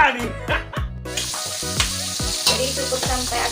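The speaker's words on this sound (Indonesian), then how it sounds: "Nah buat goreng ati ampelanya ini nggak usah garing-garing ya teman-teman" Chicken liver and gizzard fry in a pan with loud popping and crackling sizzles, a busy close-up spatter that rises and falls as the pieces are stirred.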